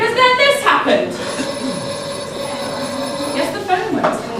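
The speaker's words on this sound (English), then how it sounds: "Yes, the phone went." A telephone ringing during a stand-up comedy show, a steady electronic ring with a sustained tone running throughout, fairly loud, while someone speaks over it.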